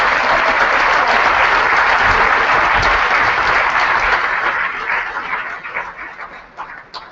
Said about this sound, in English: A round of applause, please, for Paul Palmer.